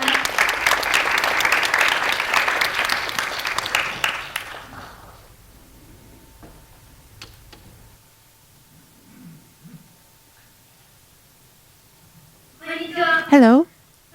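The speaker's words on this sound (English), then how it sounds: "Ms. Koide, please give her a big round of applause." Audience applause at a children's peace summit, a loud dense burst of clapping for about four seconds that fades into near silence, followed later by a short spoken phrase.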